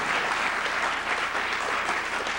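Audience applause at a Harvard speech, steady and dense clapping from a large crowd that fills the whole moment without a break.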